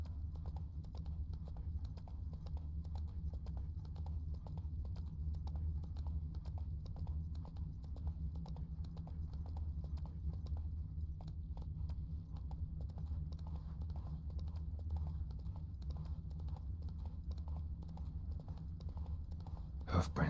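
Roach, the horse from The Witcher 3, clip-clops steadily along, with a long even run of close hoofbeats over a constant low ambient hum.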